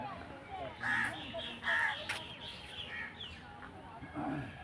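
Small birds caw and call repeatedly while mobbing a dangerous cobra that fell into a dry water-tank pit in a Punjab village. The harsh cries come at a middle distance, with some talking underneath.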